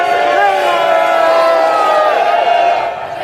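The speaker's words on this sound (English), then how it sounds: "None of his previous rallies had drawn a crowd this big." A large crowd at a Tommy Robinson rally, a dense, sustained roar of many voices chanting and cheering together, loud and continuous before easing slightly at the end.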